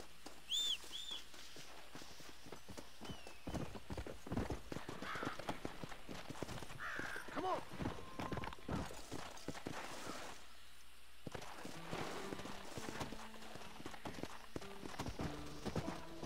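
Horse hooves clip-clop at a walking pace in the open-world western game Red Dead Redemption 2, a fairly faint steady rhythm with brief whinnies, birdsong and rural ambience around it.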